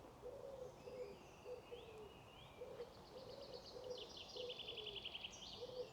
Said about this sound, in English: Can you hear the collared dove in the background?